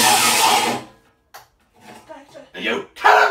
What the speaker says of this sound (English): An angle grinder!